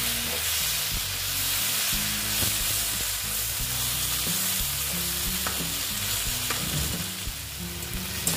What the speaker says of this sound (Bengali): মাছগুলো দিয়ে অল্প একটু মাছের সঙ্গে কষিয়ে নিচ্ছি।